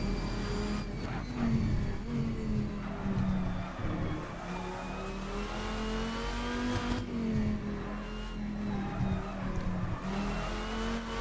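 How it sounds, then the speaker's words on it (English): A 1999 Dodge Viper GTS-R race car on the Nordschleife, its engine droning steadily while the tires squeal continuously as it scrambles for grip through corners, close and sustained with no talk. "Car, you can hear it scrambling for grip. The tire's squealing all the time"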